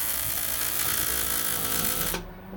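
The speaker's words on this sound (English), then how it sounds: "let's lay down some weld" An arc welder powered by a pack of disposable vape batteries lays down a weld with a loud, steady buzzing crackle that cuts off abruptly near the end, leaving a faint hum.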